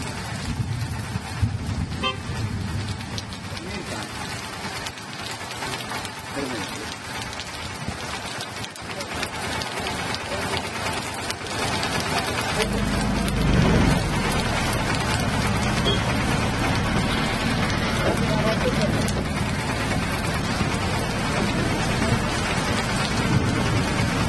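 Heavy rain pouring in Chikkamagaluru, a dense continuous hiss that swells louder and deeper halfway through, with no voices.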